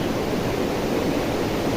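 Kali Pancur waterfall in Central Java, over 100 meters high, roars as a steady, dense wash of falling water with no voices.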